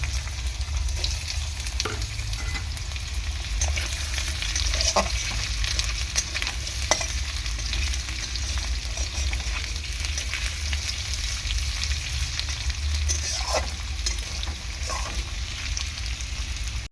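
Potatoes fry in oil in a pan, with a steady, dense sizzle running throughout and occasional faint stirring clicks, and no one talking.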